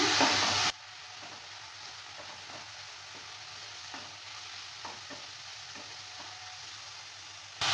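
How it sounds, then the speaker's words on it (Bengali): Moong dal being stirred in a frying pan, a soft steady sizzle with scattered scraping taps of the spoon against the pan, close and fairly quiet, no talking. "মুগ ডালটা দেওয়ার পর নেড়ে চেড়ে নিচ্ছে"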